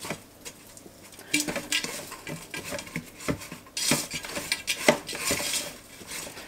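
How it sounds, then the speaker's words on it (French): Meat pieces tossed and mixed through a seasoning powder in a bowl, giving steady scraping, clinking and rustling at close range, with a few sharper knocks of utensil against the dish and no talk. "je vais venir mélanger les morceaux dans la poudre"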